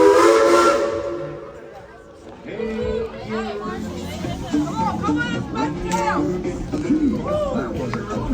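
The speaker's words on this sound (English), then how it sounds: "Casey Jones, let's get this train on back to town." A Tweetsie Railroad steam train whistle sounds loud and close at the start, then tapers off as a crowd chatters and people talk over it.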